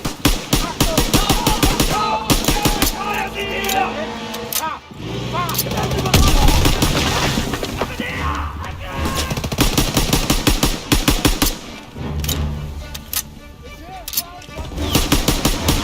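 Machine gun fire in the WW2 video game Call of Duty, dense rapid bursts and overlapping gunshots with brief gaps, loud and close, amid chaotic battle noise and shouted voices.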